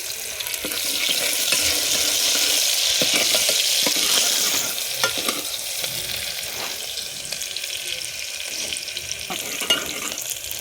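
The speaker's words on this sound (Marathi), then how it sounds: "छान एकदम गुलाबी कलरवर परतून घ्यायचा आहे कांदा हा पण" Finely chopped onion sautés in a pan over a wood-fired stove for mutton biryani, a loud dense sizzle that eases after a few seconds into softer crackling with scattered stirring scrapes, no voices.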